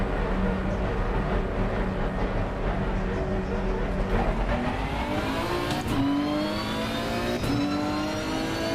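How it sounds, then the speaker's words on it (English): GT3 race car in a racing video game, its engine revving and climbing steadily through the gears, loud and continuous with rising harmonic tones; a voice talks over it at times. "This car sounds good as well."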